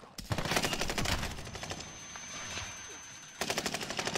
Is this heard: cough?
no